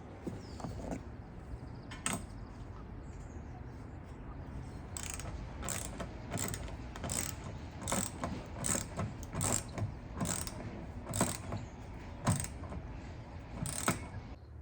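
A ratchet clicks in a series of quick, sharp strokes, close and fairly loud, while the roof rack on a Ram ProMaster camper van is tightened down.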